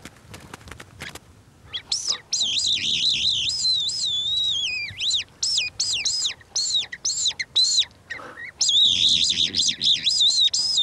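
A captive lark tethered by a harness and flown on a string as a hunting decoy sings a bright, warbling string of chirps and trills up close, in bursts with short pauses, after a few sharp clicks at the start.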